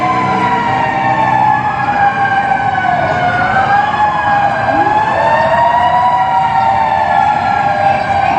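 Fire trucks arrive with their sirens wailing steadily and loudly. The sweeping tones overlap and rise and fall throughout.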